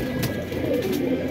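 Pigeons of the Amritsari and black-tailed kaldum breeds at a Lucknow bird sale give a low, soft cooing murmur, close and continuous, with a slight wavering pulse and no talking.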